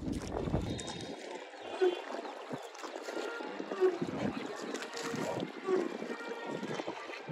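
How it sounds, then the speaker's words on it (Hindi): A boat glides on the Yamuna river near Mathura at sunset, with a low steady rumble and wash of water mixed with wind buffeting the microphone, continuous and moderately loud, with faint voices in the background. "हम यहाँ पे बोटिंग कर रहे हैं"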